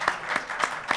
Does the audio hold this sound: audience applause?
yes